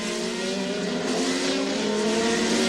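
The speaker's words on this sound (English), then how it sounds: "Bjorn Werdheim taking a bit of rubber off the front tires there as he brakes for turn 1" Formula 3000 race car braking hard for turn 1 on Avon tires, a loud steady high engine whine with tire squeal holding throughout, no voices.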